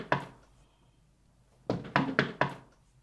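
Knocking on a wooden door in a home: one firm thunk, a pause, then a quick series of four loud knocks, close and clear with no talk.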